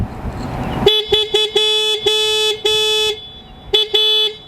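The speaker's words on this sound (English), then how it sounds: "I'm actually gonna show you guys how the horn sounds like" A Yamaha NMAX 155 scooter horn sounds in a rapid run of short toots followed by longer blasts, loud and close, over faint engine idle.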